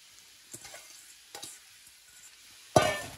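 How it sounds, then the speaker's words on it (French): Chopped mushrooms go into a pan with a little olive oil for a duxelles. A few soft scrapes are followed by a sudden loud burst of sizzling near the end. "Allez, on va faire cuire notre duxelle de champignons."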